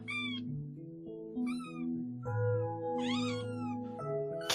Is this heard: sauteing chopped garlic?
no